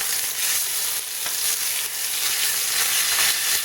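Ostrich steaks, just flipped and seasoned with spices, sizzle loudly and steadily in a hot pan, a dense continuous hiss with faint crackle and no talking.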